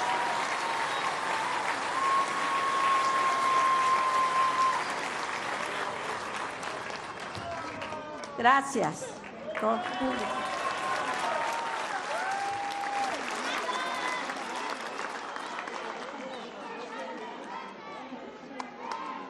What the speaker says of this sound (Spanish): pidiendo un fuerte aplauso para la presidenta